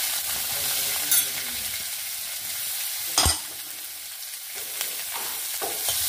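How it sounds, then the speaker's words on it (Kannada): Onions frying in a pan with garlic, ginger and green chilli for a tomato gravy, a steady close sizzle with occasional stirring scrapes and clinks. "ಒಂದು ಸ್ವಲ್ಪ ಫ್ರೈ ಮಾಡ್ಕೊಂಬ."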